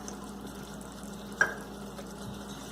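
Spinach corn pulao with biryani masala is stirred in a pan over a quiet, steady frying sizzle, with a single sharp scrape of the spoon partway through.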